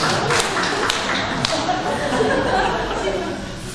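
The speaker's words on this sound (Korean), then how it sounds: "박수 좀 한번 치세요, 주사님." A church congregation claps together during a Sunday service, a dense and continuous patter of many hands with faint voices mixed in, fairly loud and holding steady throughout.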